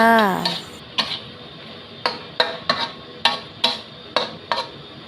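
A utensil scrapes and taps against a pan in a regular rhythm while seasoning of oyster sauce, sugar and flavour powder is stirred in for stir-fried instant noodles with pork liver, with a faint sizzle underneath.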